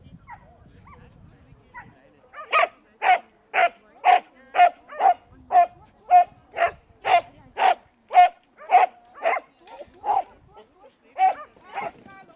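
A dog barks rhythmically at an agility competition course with tunnels, hurdles and seesaws, about twenty sharp, evenly spaced barks, loud and close, after a quiet start.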